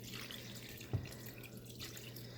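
Liquid poured over pork in a Tupperware pressure cooker for Cuban pork, a faint, steady wet trickle with one brief drip or splash partway through, close by and without talk.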